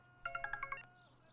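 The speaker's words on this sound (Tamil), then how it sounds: "ஃபோன். அட்டெண்ட் பண்ணுங்க." A phone ringing indoors, a short quick run of bright electronic ringtone notes, about six rapid chimes, fairly faint over a quiet background.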